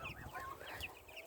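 Chickens on a farm raising meat birds cluck and call outdoors in a brief, steady burst of overlapping bird voices at moderate distance, with no talking.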